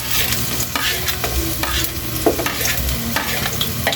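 Garlic and onion sautéing in a pan, a dense continuous sizzle with regular stirring scrapes, close and fairly loud, without any voices.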